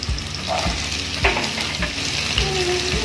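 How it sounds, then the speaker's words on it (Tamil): Potato, carrot and beans frying in hot oil crackle and sizzle loudly and continuously, with a few stirring scrapes and clinks of a spoon against the pan. "எண்ணெய் நல்லா ஹீட் ஆனதும் உருளைக்கிழங்கு சேர்த்துக்கிறேன், கேரட்,"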